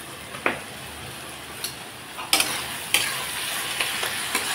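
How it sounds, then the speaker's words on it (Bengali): Onion and tomato frying in a pan with turmeric and salt, a soft steady sizzle broken by several sharp clinks and scrapes of a spatula stirring, close by with no talking. "পেঁয়াজ টমেটো একেবারে ভাজা করে নিলাম।"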